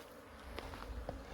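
Honey bees buzzing around hives at an aloe apiary site in winter, a steady low drone with a few brief closer passes, no voices.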